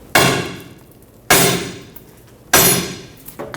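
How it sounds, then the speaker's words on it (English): Three loud, evenly spaced metallic hammer strikes ring out against a seized control arm bolt on a 2003–2012 Chevrolet Colorado 4x4, each with a sharp clang and short ringing decay, plus a lighter tap at the end. "Let's see what we can do by just tapping it with a hammer."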